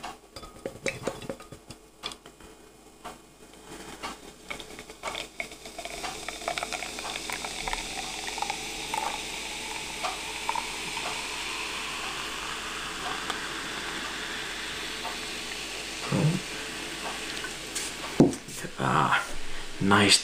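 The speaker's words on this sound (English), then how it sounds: "Nice dark head bubbling away. Hear it dissipating quite quickly." Dark head of a barrel-aged 10.1% imperial stout fizzing steadily in a glass, a soft continuous close crackle of tiny bursting bubbles, with brief clinks and handling knocks near the end.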